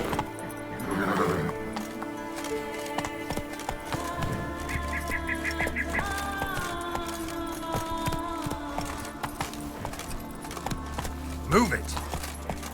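Horse hooves clip-clopping at a gallop in The Witcher 3, with rhythmic thuds and an occasional whinny over background game music and speech.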